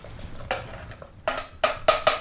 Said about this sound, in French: le passer au tamis